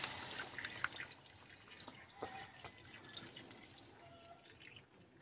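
Water pours into a cooking pot for chicken tinola, a quiet, continuous splashing trickle with scattered drips, fairly close and fading toward the end, with no talk over it.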